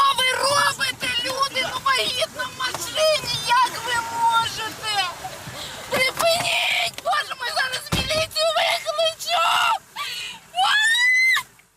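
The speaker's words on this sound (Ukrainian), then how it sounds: "А на цьому відео кричить його вагітна дружина" A pregnant woman screams repeatedly in distress during a roadside beating near Kyiv, her cries loud and close, mixed with shouting voices and wind buffeting the microphone.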